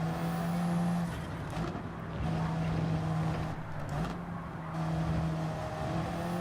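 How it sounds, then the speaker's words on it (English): A race car in Gran Turismo 7 holds its engine on the rev limiter, a loud, steady buzzing drone with stuttering cut-outs that runs through the whole stretch without talk. "you look down and you're on the rev limiter"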